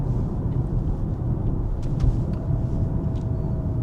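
A Maserati Grecale sits in Corsa mode with launch control engaged, giving a deep, steady engine rumble heard from inside the cabin. A few faint clicks appear over it, and no one speaks.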